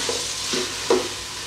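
Mint, coriander, green chillies and curry leaves sautéing in a pan of oil, a loud close sizzle with a few stirring scrapes and spatters.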